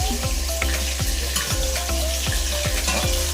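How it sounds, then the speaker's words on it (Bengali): Potatoes frying in a pan over a wood-fired stove, a loud continuous sizzle broken by regular scraping stirs roughly every half second, close up with no talking. "তো আলু পুরো একদম ভাজা কমপ্লিট মোটামুটি।"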